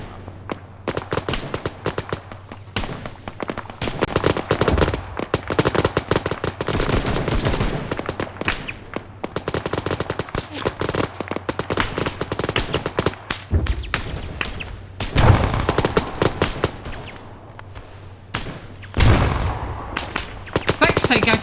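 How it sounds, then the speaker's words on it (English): Arma 3 combat fills the air with rapid gunfire bursts and heavy thuds of artillery fire, dense and continuous with occasional louder blasts, while voices talk faintly beneath. "I think that's friendly artillery."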